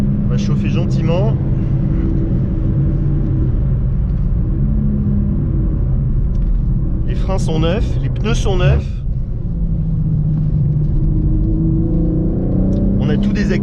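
A BMW M3 G80 on track rolls along gently to warm up, its engine a continuous low rumble heard from inside the car while someone talks in short bursts over it.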